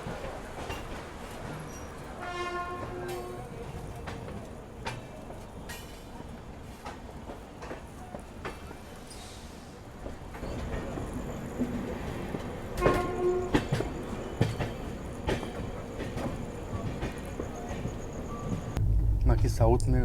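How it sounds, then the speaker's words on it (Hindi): A Vande Bharat sleeper train pulls out of a station on the Shiradi Ghat route in Karnataka, rumbling and clattering as it gathers pace, with a horn sounding near the start and people talking nearby. "ट्रेन का ठहराव 5 मिनट का था, और 5 मिनट पूरे होते ही अपना डिपार्चर हो गया यहाँ से।"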